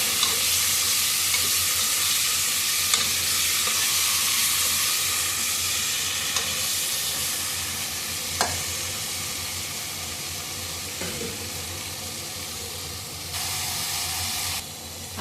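Chicken liver fries in a little oil in a pan, a steady close sizzle and hiss with occasional scraping stirs, continuous and without speech.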